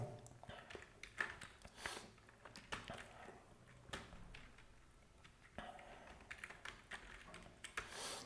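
Computer keyboard keys clatter in irregular bursts while ServiceNow portal code is typed, the taps close and fairly quiet, with a few louder strikes and no talk.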